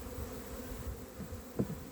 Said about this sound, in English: There's some bees down the bottom, so I'll lift the box off, have a better look.